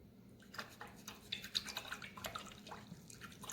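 A paintbrush swishes and clinks in a container of rinse water during acrylic landscape painting, with faint irregular drips and splashes, quiet and close.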